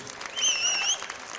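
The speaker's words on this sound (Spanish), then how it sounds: "Esto es el ensayo general del aplauso" A festival audience practises its applause in a short burst of crowd clapping, with a whistle rising over it.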